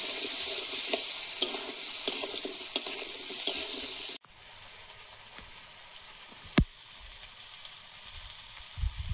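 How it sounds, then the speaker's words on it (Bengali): Taro being fried and stirred with ground spice paste, a close hiss of oil with spatula scrapes, then a quieter stretch after a sudden drop, with a sharp knock and later stirring. "কচুটা মশলার সঙ্গে ভালোভাবে কষিয়ে নেব"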